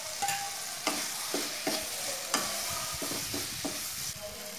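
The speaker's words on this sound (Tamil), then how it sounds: "ரெண்டு சேர்த்ததுக்கப்புறமா நல்லா வதங்க விடுங்க. ஒரு 2 நிமிஷம் வரைக்கும் நல்லா வதங்கட்டும்." Ingredients with curry leaves sautéing in a pan for crab rasam made with country crab, a steady close sizzle and fry broken by several sharp stirring scrapes, no voices.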